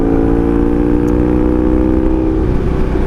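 A 1982 Honda Magna motorcycle engine revs steadily at close range, a loud, continuous harmonic drone holding pitch before settling slightly lower near the end, with no talking.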